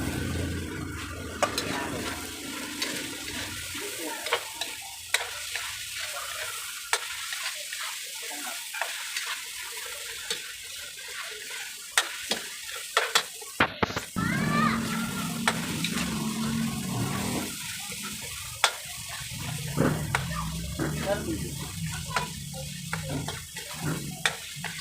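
Pork stir-frying for chopsuey in a pan, with steady sizzling and scraping stirs running throughout, close and moderately loud, and occasional clinks of a utensil against the pan.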